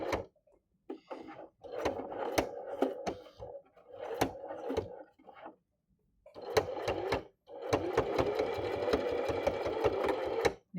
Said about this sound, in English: Now you can sew back and forward a couple of times to really secure it on.